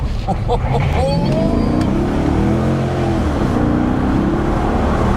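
A loud, throaty straight-piped Maserati Quattroporte S engine rumbles steadily at idle and low revs, with a brief rising rev near the start and a faint voice mixed in.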